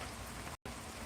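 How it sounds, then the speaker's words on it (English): Steady, moderate rain falls outside in a backyard in the Charlotte area, a faint continuous hiss with one very brief dropout and no voices. "you might be able to hear some of the rain right now that's moving through the greater"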